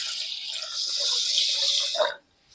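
A glass of water is poured into a pot, splashing steadily for about two seconds, then stopping abruptly, followed by near silence.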